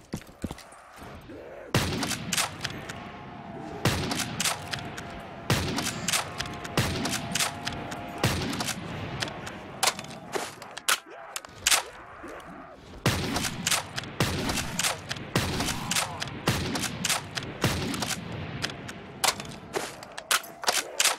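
Sniper rifle gunfire in Black Ops 3 custom Zombies, sharp loud shots cracking at irregular intervals over a dense game soundscape, with no talking.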